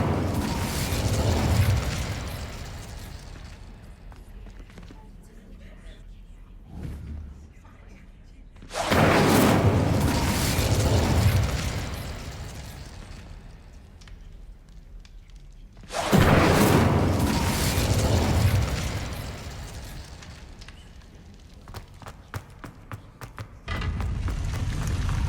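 Fire spell blasts in Hogwarts Legacy on Xbox Series X: two loud, sustained roaring bursts a few seconds apart, each fading slowly, with quieter game ambience and rumbling between them.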